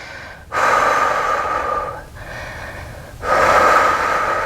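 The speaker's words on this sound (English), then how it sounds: "Take a few more deep breaths." Deep breathing during yoga handstand preparation: two long, loud, airy exhales sound close to the mic, separated by a brief, softer breath.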